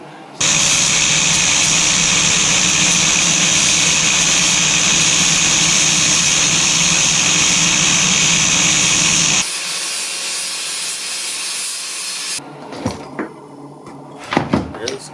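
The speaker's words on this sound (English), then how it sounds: "This is where I gotta grind down." A grinder works down a part for the starter replacement on a 2000 Kawasaki Ultra 150 jetski, a loud steady whine for about nine seconds, then quieter hum and several clanks and handling knocks nearby.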